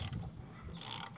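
A Honda RC24 V4 engine with spark plugs fitted, being turned over slowly by hand, gives a brief close mechanical ratcheting and clicking of gears and internals, quiet and without speech.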